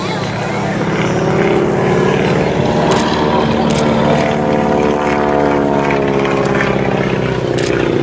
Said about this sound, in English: This particular aircraft being flown here by Chris Clark